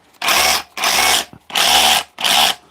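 A repaired old power drill runs in four separate bursts, its motor spinning up loud and close, holding a steady whine, then stopping with short pauses between each run.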